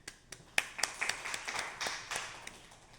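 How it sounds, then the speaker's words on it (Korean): Scattered handclaps in a classroom during a lecture on surface roughness measurement, a small group clapping briefly in irregular, fairly close claps without a full ovation. "박수."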